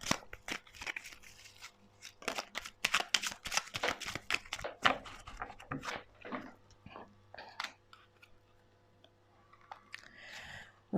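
Oracle cards shuffled at length, a close, dense run of crisp papery riffles and slaps that thins out toward the end, with no voice over it.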